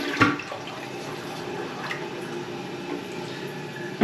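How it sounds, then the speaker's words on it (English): Hot water runs steadily from a sink tap during a house walkthrough, a continuous close splashing hiss with a couple of brief knocks at the start and end. "I run the hot water."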